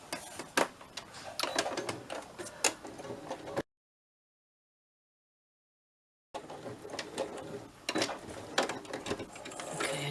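Sewing machine stitching around the edge of a junk journal embellishment, rapid ticking needle strokes in two bursts separated by a few seconds of silence.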